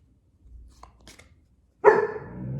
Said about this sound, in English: my dogs barked a little